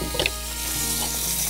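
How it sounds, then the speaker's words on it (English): Butter and bacon sizzle on a fire disc, a steady close frying hiss with a couple of quick metallic clicks near the start and no talking. "I'm gonna put a whole stick of butter in there because we're gonna cook our steaks"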